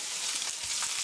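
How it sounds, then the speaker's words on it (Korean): Sliced onion and cabbage stir-frying together in a hot pan, a brief steady hiss of sizzling at close range. "어니언, 양배추, 캐비지 같이 넣어서 볶아주세요."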